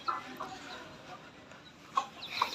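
Soft clucking from a hen and her chicks, with a few brief higher chirps near the end, over a hissy outdoor background.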